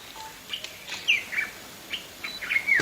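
Sharp bird calls, chirping and whistling in short bursts while the bird attacks a snake out in the open, pecking at its eyes and tail; several calls are close, with brief gaps of quiet between them.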